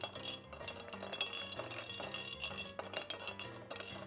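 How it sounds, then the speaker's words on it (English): Cocktail made with black walnut bitters and burnt sugar syrup stirred in a glass, a soft continuous run of faint clinks and tinkles from spoon and ice, quiet and close, with no talking. "Now we give it a stir."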